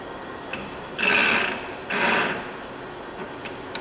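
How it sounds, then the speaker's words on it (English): Timemaster Gurutzpe 45 x 160 gap bed lathe running its carriage on longitudinal power feed, two short mechanical whirring bursts about a second apart over a steady machine-shop hum. "That's the longitudinal feeding of the carriage."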